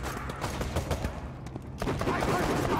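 A scoped gun in Borderlands 2 fires a rapid burst of close, punchy shots, with the shots thickening toward the end.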